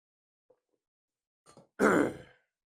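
After faint clicks and a short rasp, a loud guttural throat clearing sounds close up, then silence.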